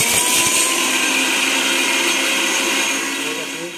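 A blender whirs steadily at high speed, grinding onion, cumin and ginger-garlic into a paste for chicken aloo kosha; the loud, continuous motor drone fades slightly toward the end.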